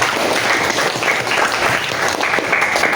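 Classroom applause for two students' answers during a teaching session, a continuous burst of many hands clapping fairly close and loud for three seconds.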